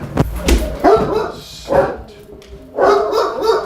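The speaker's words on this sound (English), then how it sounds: "There's a couple of dogs in here, so you're gonna hear barking or something probably." Dogs kept in crates indoors bark in several loud, separate bursts, with short gaps between them and a person briefly speaking a command.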